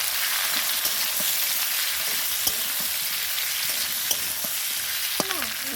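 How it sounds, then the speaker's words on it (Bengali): Peeled amla, Indian gooseberries, fry in hot oil with spices. They give a steady, dense sizzle with a few small pops and scrapes, and no talk over it. "এবারে দেব আমলকিগুলো, ছাড়ানো আমলকি।"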